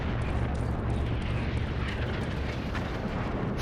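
An explosive detonation in the PlayStation 2 game Rogue Trooper: a heavy, continuous blast rumble that stays loud and even for several seconds, with no talking over it.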